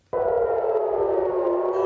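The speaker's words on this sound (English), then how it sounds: "In Tel Aviv, sirens were heard in the early hours of Friday morning following a missile launch from Yemen" An air raid siren wails in Tel Aviv in the early morning after a missile launch from Yemen, a loud steady tone that starts abruptly and holds for nearly two seconds, with no voices.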